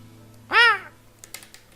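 A raven gives a single harsh, close caw, followed by a few faint clicking taps in an otherwise quiet space.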